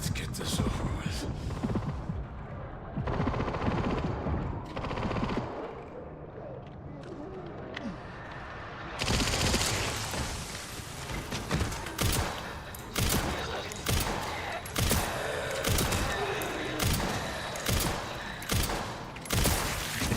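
Gunfire in the video game Resident Evil Requiem: bursts and rapid shots fill the second half, loud and close, over a busy game soundtrack.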